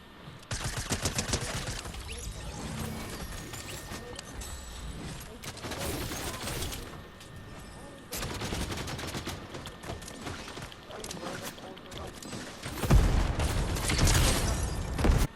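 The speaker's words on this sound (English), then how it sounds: "I am copping so many fucking bullets right now." Gunfire in a video game hits the player, with dense bursts of rapid, loud automatic shots coming from several directions and a heavier boom near the end.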